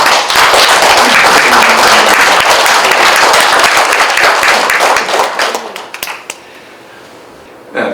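A standing audience at a Korean Teachers' Day academic ceremony breaks into loud, sustained applause that tapers into a few scattered claps, then near quiet with a brief rise at the very end.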